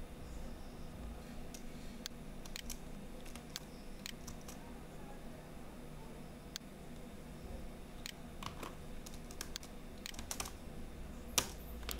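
Computer keyboard typing during Android Studio coding work, with scattered clicks and keyboard-shortcut presses ticking sparsely over a low room hum, close but fairly quiet.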